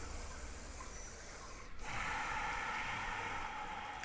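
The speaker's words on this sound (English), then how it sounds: "almost as if you make a ha sound on the exhale, but with your mouth closed" An Ujjayi yoga breath drawn through the nose with the mouth closed during a yoga class: after a quiet start, a steady, close, hissing exhale begins midway and continues to the end.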